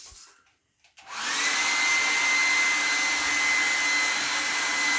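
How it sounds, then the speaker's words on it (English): After a brief pause, a hair dryer switches on and blows steadily at a crayon, with a loud, constant whooshing roar and a thin whine. "use a hair dryer to melt the crayon"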